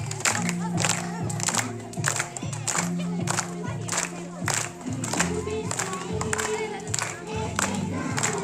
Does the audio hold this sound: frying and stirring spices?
no